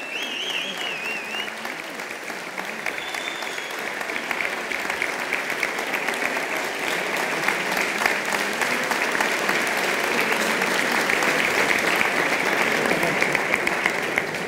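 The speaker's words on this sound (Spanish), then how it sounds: "a Fuenci, también recibes este reconocimiento y este fuerte aplauso del público." Strong, sustained audience applause at a folk music group's concert in Gran Canaria, a dense wash of clapping that swells slightly and continues steadily throughout, with faint crowd murmur underneath.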